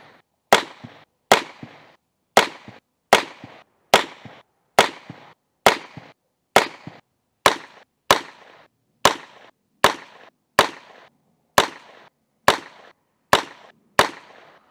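A Heritage Rough Rider revolver fitted with a red dot sight fires about seventeen sharp, loud, evenly spaced shots, each a crisp crack with a short decay and no talking.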